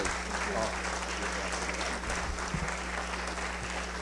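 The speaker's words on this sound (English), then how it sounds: "Big round of applause" Attendees at a school board of education meeting applaud a teaching assistant, a steady round of clapping from a moderate crowd in a meeting room, with a constant low hum beneath it.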